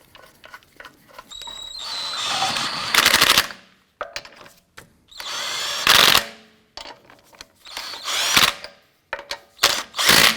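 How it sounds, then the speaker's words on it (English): On an Acura TL, a power tool snugs down the wheel lug nuts. It fires in several loud, rattling bursts of a few seconds each, with short pauses and clicks between them. "Get our lug nuts all started by hand first, and then we'll snug those down."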